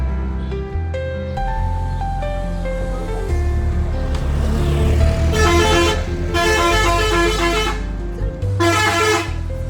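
Vehicles on a road during a trip to Badrinath honk repeatedly, with long, loud multi-tone horn blasts from buses and trucks over a constant engine rumble. The horns overlap and recur in several sustained bursts.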